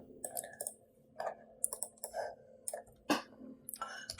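Sharp, separate mouse clicks sound close and crisp while working in Adobe Animate CC 2025, coming in an irregular rhythm with quiet gaps between them.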